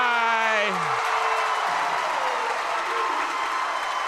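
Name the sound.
basketball game crowd cheering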